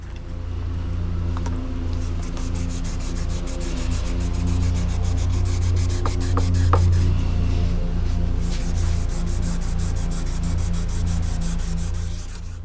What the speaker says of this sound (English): Here's both covers sanded.